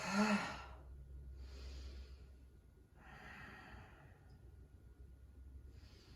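During a yoga shoulder stretch at a wall, slow deep breaths sound as soft, airy inhales and exhales in three or four long swells, close and quiet, with no talk.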